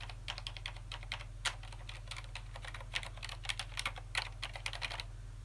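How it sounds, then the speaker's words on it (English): Typing on a Cherry MX Board Silent mechanical keyboard fitted with MX Red silent switches: a steady run of soft, muted keystrokes in quick irregular rhythm, close up and alone over a low electrical hum. "This is the Cherry MX Board Silent. Now this is a mechanical keyboard, but it doesn't make as much noise"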